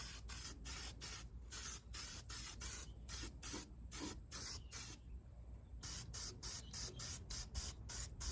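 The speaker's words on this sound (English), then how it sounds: "I think I'm just gonna throw a thing of spray paint on there" Spray paint hisses in repeated short bursts onto a watering can, a steady rhythm of close, sharp sprays broken by brief pauses, with a longer gap midway before the spraying resumes.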